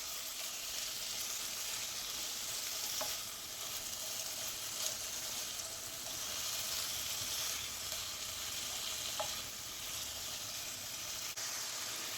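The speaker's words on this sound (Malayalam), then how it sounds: "ഉപ്പിട്ട് കൊടുത്തൊന്ന് ഇളക്കി കൊടുക്കാം" Carrot and potato fry with turmeric and salt sizzling in a pan as it is stirred, a steady quiet hiss with a couple of soft scraping touches, no talk.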